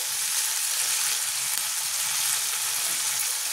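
Onions frying in a pan with onion, garlic, ginger and chilli pastes and chopped tomato for a Bengali prawn dhokar dalna, a steady dense hiss of sizzling oil throughout with no voices.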